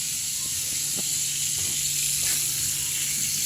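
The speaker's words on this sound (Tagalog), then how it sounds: "naglagay ako dito ng butter kasi lulutuin natin yung sauce" Butter sizzling in a hot pan for a homemade garlic chicken sauce, a loud continuous frying hiss with faint crackles, close by.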